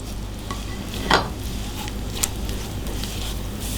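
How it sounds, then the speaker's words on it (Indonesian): Spice paste with fried peanuts and chilies being sautéed in a pan, a steady sizzle throughout with a couple of sharp scrape or stir clicks, close and alone. "Sekarang kita mau tumis bumbunya nih, kacang sama cabai-cabai yang udah kita goreng tadi."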